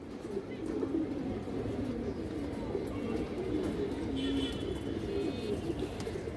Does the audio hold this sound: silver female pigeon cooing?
yes